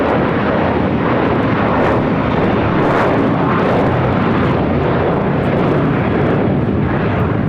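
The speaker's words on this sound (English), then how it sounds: "Taking off to JFK, JetBlue Airways 2024 on an A321." A JetBlue Airways A321 taking off from LAX bound for JFK produces a loud, close, continuous roar of jet engines at full power, dense and unbroken with no voices on top.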